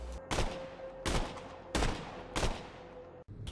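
Damned Cowboy assault rifle from Borderlands 2 firing four loud, heavy single shots at a slow, even pace, each blast ringing out briefly before the next.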